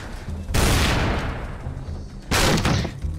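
Two loud blasts of enemy shotgun fire in Tomb Raider Legend, set in Peru, each a heavy booming burst with a lingering roar, the second arriving about two seconds after the first.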